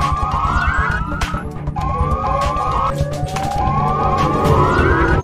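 Siren Head creature in Jurassic World Evolution 2 wailing with a rising, repeating siren tone over a steady rumbling game background, loud and continuous without talk.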